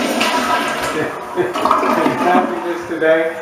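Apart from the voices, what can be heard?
toilet flush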